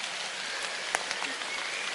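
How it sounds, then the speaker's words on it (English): Steady rain falling in a park in June, an even wash of close patter on leaves and ground with a few louder drops standing out. "And down comes the rain."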